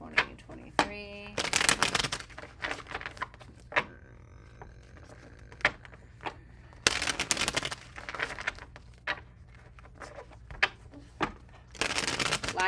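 Tarot cards being shuffled during a reading, in quick bursts of riffling and snapping between softer handling noises, close and moderately loud, with some quiet talk nearby.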